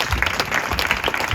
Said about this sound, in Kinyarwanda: mureke tuyikomere amashyi menshi.